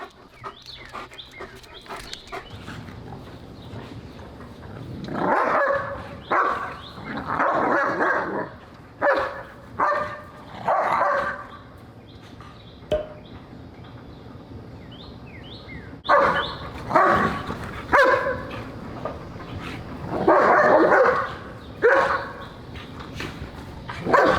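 German Shepherds bark outdoors on a summer day, firing off repeated clusters of barks in irregular bursts at moderate distance, with quieter gaps between volleys and faint background sounds.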